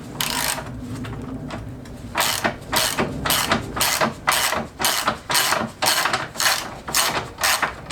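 Ratchet wrench loosening a nut on a Peugeot 206 during front axle removal, a burst of rapid clicking followed by repeated short ratcheting strokes in a steady back-and-forth rhythm, close and clear with no talk.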